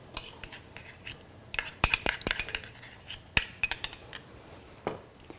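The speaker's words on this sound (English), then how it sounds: "Give that a stir, work the flavours together" A utensil stirs tomato sauce for chicken cacciatore in a metal pan, giving irregular clinks and scrapes against the pan, some sharp and bright, in short bursts with quiet gaps between.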